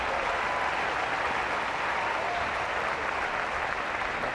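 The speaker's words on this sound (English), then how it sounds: "Applause leads for Thomas Enqvist from his entourage as he comes through another crucial test." Steady, dense crowd applause at a men's tennis match in Cincinnati after a game is won, a loud, sustained wash of clapping from a large audience with no breaks.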